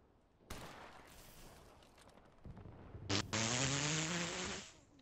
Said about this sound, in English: I shot with the sniper right now.